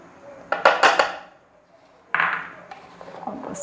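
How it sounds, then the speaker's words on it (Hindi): Potato fries being stirred with cornflour in a metal pot give two bursts of clattering scrapes and knocks, close and fairly loud, separated by a quiet pause. "और बस इसको ऐसे अच्छी तरह से मैं मिक्स कर दूँगी"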